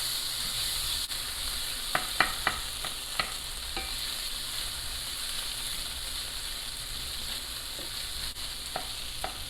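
Chorizo fries in a hot skillet with a steady close sizzle and hiss, and a few sharp clicks and taps of a utensil stand out here and there.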